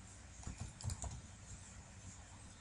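Clicks of typing on a computer keyboard while a file name is entered, a short burst of keystrokes, fairly faint and close, with no talking.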